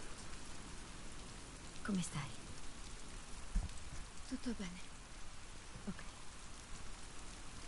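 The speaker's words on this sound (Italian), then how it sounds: "in questa scena piove, si sente nelle cuffie, si sente proprio il gocciare anche qua" Steady rain patters across a scene in The Last of Us Part II as characters head toward a harbor, a dense wash of drips and hiss, with brief speech breaking in over it.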